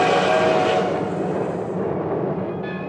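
A crowded suburban passenger train rumbles along the rails with a steady, loud, broadband roar that eases slightly over a few seconds, with no talk.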